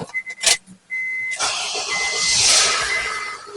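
A 2008 Honda CR-V engine cranks with a sharp electric whine, then catches and fires up into a steady running roar, close and loud, just after a starter replacement.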